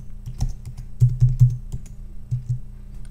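Keys on a computer keyboard are tapped to enter a password, a quick uneven run of close, crisp clicks in small bursts with no talking.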